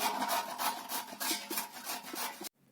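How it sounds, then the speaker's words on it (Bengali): Halved mangoes are scraped across a hand grating machine, giving a rapid series of rough, rhythmic rasping strokes close to the mic that stop abruptly near the end. "এই মেশিনে এই আমগুলোকে কুড়ে নেব"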